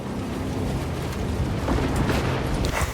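Explosions in the video game Warhammer Space Marine 2 form a dense, continuous roar of booms and rumbling blasts, with crackling bursts layered over the steady din.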